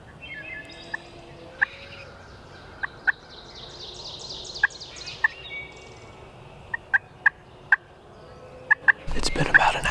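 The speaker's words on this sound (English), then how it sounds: "It sounds like I can hear the gobbler down there" A wild turkey gobbler gobbles from a distance in a string of short, sharp calls spread across the clip, ending with a louder close rustle.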